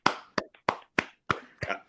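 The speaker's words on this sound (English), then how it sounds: "Let's give a round of applause." A handful of sharp, distinct hand claps in an uneven rhythm, close and dry, about seven separate smacks with silence between, a sparse round of applause on a talk show.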